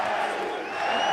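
A crowd roars and cheers inside the cage arena at a Shoxc mixed martial arts fight event at the Trump Taj Mahal in Atlantic City, a sustained, loud wash of voices with no break.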